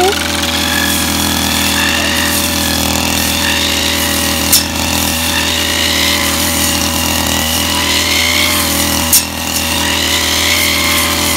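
A STIHL FS240 brush cutter's small engine drones steadily and loudly throughout, with a couple of brief knocks partway through, while cutting grass on a rice paddy levee.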